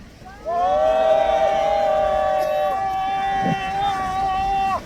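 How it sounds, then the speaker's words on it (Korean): A rally crowd in Gwanghwamun Square by the Yi Sun-sin statue lets out a long, loud, sustained 'wa' cheer of encouragement, a droning group shout that holds for several seconds before cutting off. "우리 모두 격려의 함성 와를 힘차게 외쳐주시기 바랍니다"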